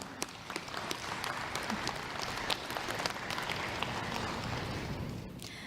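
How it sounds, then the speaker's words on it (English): Audience applause at a general assembly, a steady patter of clapping hands held at moderate volume for several seconds before tapering off at the end. "So maybe we can give them a big round of applause."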